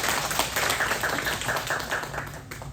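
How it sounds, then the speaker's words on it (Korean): A church congregation claps during a Sunday worship service, a dense, even patter of many hands that runs steadily throughout without a break. "박수 한번 하겠습니다"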